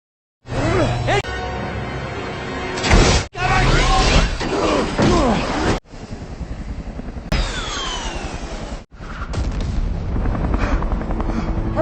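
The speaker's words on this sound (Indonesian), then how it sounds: "Saat sedang berada di helikopter, mereka sempat dibazoka." Heavy helicopter rotor noise is broken by loud booming explosions and crashing impacts as a bazooka hits the helicopter in the film Red Notice (2021), with intense, dense action sounds throughout.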